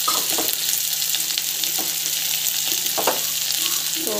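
Chana dal and urad dal sautéing in hot oil in a pan, a dense continuous sizzle and crackle with occasional spatula scrapes, close and steady throughout, no voices.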